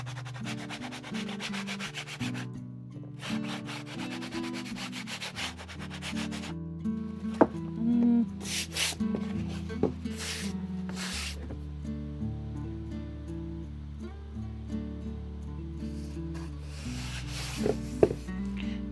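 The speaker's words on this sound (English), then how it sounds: "I'm going to go over those and sand those a little bit though, like we did on the other ones with my trusty standing block." A sanding block is rubbed by hand over a thrifted lampshade in steady back-and-forth strokes, soft and close, while music plays in the background.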